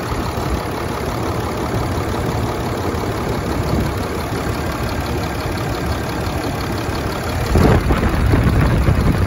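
A 6.7 Cummins diesel in a 2010 Ram 3500 idles steadily up close with the hood open, a continuous rough clattering rumble with a brief louder burst near the end and no talk.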